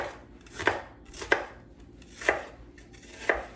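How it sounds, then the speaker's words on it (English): Vegetables diced with a knife on a cutting board: four separate, crisp chopping knocks with pauses between them, close and fairly quiet, with no talking. "Start dicing these guys up."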